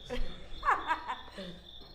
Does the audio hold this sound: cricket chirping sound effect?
yes